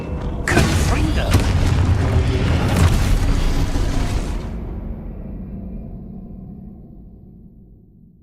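A Confringo fire spell explodes in Hogwarts Legacy, a loud broad boom with crackling debris that holds for about four seconds, then drops into a low rumbling tail fading away.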